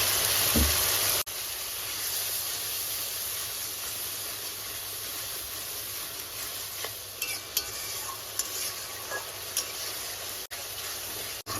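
Masala paste for a dal and prawn dish is fried and stirred over high flame in a pan, a dense steady sizzle and hiss with occasional soft scrapes of the spoon.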